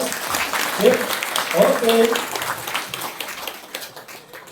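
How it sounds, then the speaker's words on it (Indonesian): An audience at a talk show on the Indonesian diaspora claps together, a moderate round of applause with voices talking over it that fades toward the end. "Kita tepuk tangan yuk, bareng-bareng."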